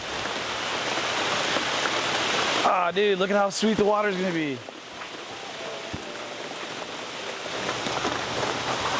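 Rain falling steadily outdoors by a lake, a constant broadband patter running throughout, with someone talking briefly over it partway through.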